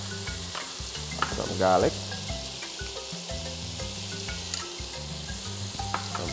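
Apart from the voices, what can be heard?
onion and garlic frying in butter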